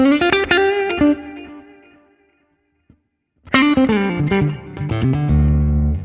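Guitar played through reverb, with chords and single notes ringing out and trailing off into a decaying tail, then a pause and a fresh run of strummed and picked notes, heard alone.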